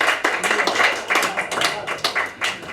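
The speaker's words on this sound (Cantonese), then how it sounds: "咁我哋咧各位會員咧請用熱烈嘅掌聲咧歡迎到訪嘅嘉賓啊" Members at a BNI business chapter meeting give warm applause to welcome visiting guests: a moderate burst of many hands with distinct individual claps, and a voice faintly beneath.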